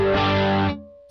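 A single distorted chord on an electric guitar through a Fender amp, with the bridge pickup split, rings loud and close for a moment, then is choked off quickly, leaving a faint ringing note.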